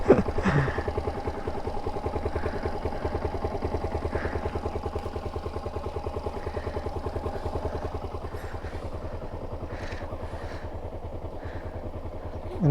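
A Suzuki SZR 150 motorcycle idles steadily nearby with a rapid, even engine pulse and a light mechanical clatter, running continuously without revving.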